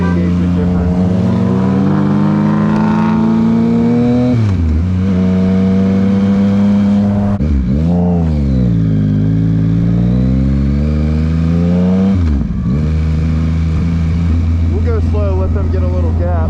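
A 2023 Yamaha MT-09 motorcycle in power mode 1 pulls hard, its loud engine droning and rising through revs with dips at gear changes, heard close up under wind, with someone talking over it.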